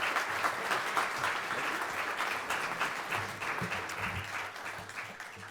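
An audience at the City Club of Cleveland applauds to welcome speaker Justin Driver, a dense, sustained wash of many hands clapping that fades slightly toward the end.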